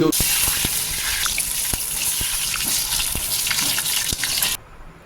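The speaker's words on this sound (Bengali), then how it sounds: "ওরা ওদিকে অ্যাকোরিয়ামে জলটা দিচ্ছে" Water gushes close and loud into an aquarium as a steady pour with faint splashes, then stops abruptly just before the end.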